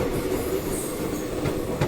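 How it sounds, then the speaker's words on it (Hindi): The Gaya Howrah Express runs along rails in Bihar, giving a steady, close rumble of wheels with faint squeals, and no voices. "तो ये हम अपनी इस गया हावड़ा एक्सप्रेस की पहली स्टॉप वजीरगंज पहुंच चुके हैं।"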